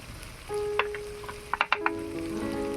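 Ginger, garlic and onion fry in a pan with a steady broadband sizzle, punctuated by a few sharp clinks and scrapes of stirring near the middle; no one talks.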